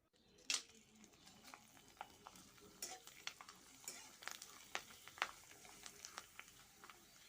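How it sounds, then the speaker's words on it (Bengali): Homemade potato papads frying in hot mustard oil, a soft, faint sizzle with repeated scraping and stirring taps from a utensil in the pan, close by and without talk. "দেখতে পাচ্ছেন পাঁপড়গুলো কি সুন্দরভাবে ভাজা হচ্ছে।"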